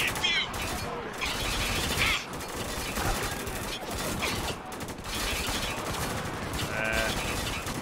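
Turret gunfire in the Spec Ops: The Line video game rattles in dense mechanical bursts throughout, loud and close amid a busy battle soundscape, with scattered voices under the fire.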